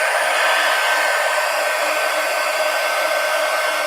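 A hair dryer blows at steady full power, a loud, close, unbroken whoosh used to dry ink on a sketchbook page.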